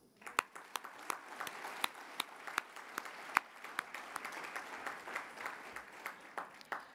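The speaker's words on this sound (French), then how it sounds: "joignez-vous à moi, pour les applaudir." Audience applause at the opening ceremony of the 49th plenary session of the APF: a fairly faint, spread-out patter of clapping in a hall, with a few louder individual claps standing out near the front.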